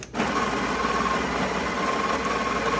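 A Breville espresso machine grinding coffee beans, a loud, steady mechanical whir that starts abruptly and holds constant throughout, close and with no talk.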